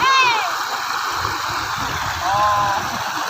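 River water flows steadily and nearby as a constant broadband rush, with a brief whistle-like tone near the start and again later, and no talking over it.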